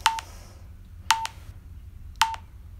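Morse code training app giving audio feedback tones while tapping, three short, clean electronic beeps about a second apart over a faint low hum.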